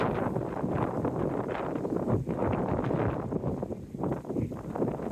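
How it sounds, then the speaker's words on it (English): Strong southerly wind gusting through an orchard of fruit trees, a steady loud roar with wind buffeting the microphone and rustling leaves, rising and falling in gusts throughout. "So we get the brunt force of these southerly winds."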